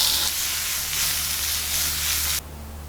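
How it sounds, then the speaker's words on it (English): Peppers sauté with salt and pepper in a pan, a loud, close, even sizzle that holds steady before dropping away abruptly near the end, leaving a quiet low hum. "We're going to add some salt and pepper and saute our peppers."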